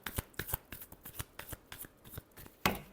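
A deck of tarot cards is shuffled by hand in a quick series of soft, papery riffles and slaps. A sharper, louder flick comes near the end.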